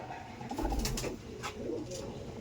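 Pigeons in single-compartment nest boxes in a loft give faint, low cooing murmurs, somewhat distant, over a soft background hum.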